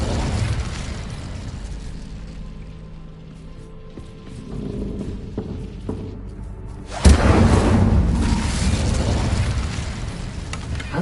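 The Incendio fire spell cast in Hogwarts Legacy: a sustained roaring whoosh that swells into a loud burst of flame about seven seconds in, then keeps rumbling, close and full with no speech.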